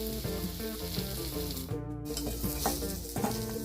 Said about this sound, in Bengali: পটলগুলো ভাজা হয়ে গেলে এবার